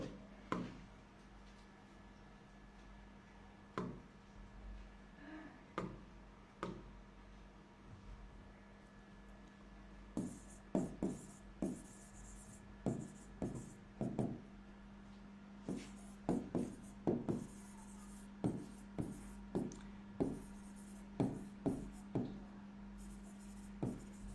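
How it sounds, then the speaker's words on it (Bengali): A formula is written out by hand: scattered pen taps and short scratchy strokes come close and clear over a low steady hum, growing busier partway through. "বই মূল্যের সূত্রটা আগে একটু লিখি"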